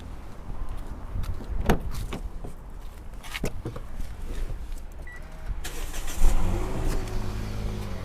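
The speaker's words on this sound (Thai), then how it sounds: "สตาร์ทรถโดยใช้นิ้วอันเดียว" Push-button start of a 2012 Toyota Yaris 1.5 RS automatic with a VVT-i engine: a few clicks and thumps, then the engine catches and settles into a low steady idle, heard close.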